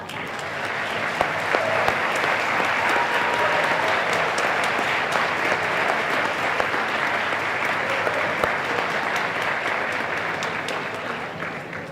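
A warm round of applause for the Brian Sand Quintet at a ceremony, dense clapping from a sizeable crowd, steady and full throughout with a few sharper claps standing out.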